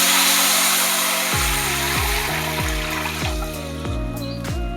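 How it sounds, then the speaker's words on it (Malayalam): Three glasses of water poured into a pan for a semolina breakfast dish, a steady loud rushing pour with repeated hollow splashing pulses as the level rises. "ഇനി ഇതിലേക്ക് 3 ഗ്ലാസ് വെള്ളം നമുക്ക് ഒഴിച്ചു കൊടുക്കാം."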